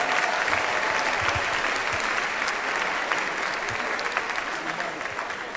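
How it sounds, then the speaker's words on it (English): A large convention audience breaks into a sustained round of applause, dense steady clapping from a big crowd that fills the room and tapers slightly toward the end. "give you all a round of applause"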